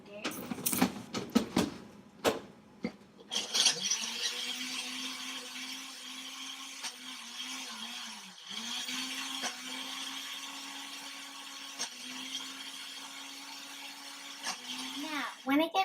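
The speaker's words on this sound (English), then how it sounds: "Once you do this, you're going to want to put it in the blender." A blender making banana soft serve whirs loudly in sustained bursts after a few clattering knocks, its motor pitch shifting slightly as it runs, with short pauses between.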